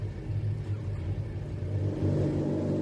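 Race cars idling and revving on the grid before the start of a SpeedTour race at VIR, a dense low engine drone that swells slightly louder toward the end.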